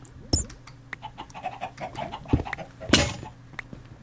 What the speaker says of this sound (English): Huh, I found a bunch of chickens.